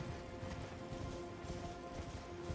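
Horse hooves clip-clopping at a steady riding pace in Elden Ring, a continuous muffled rhythm beneath ambient game sound and music, with no talk.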